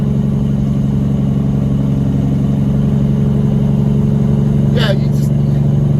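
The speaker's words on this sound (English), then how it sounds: "Y'all hear that Jake brake singing too, huh?" A truck's Jake brake engaged while descending a hill, a steady low droning engine rumble that is loud and constant throughout, with a short higher whine breaking through near the end.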